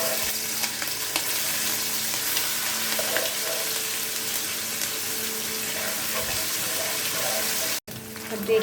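A steady, dense sizzle of ginger garlic paste frying in a hot pan, close and continuous, with faint clinks of a utensil stirring.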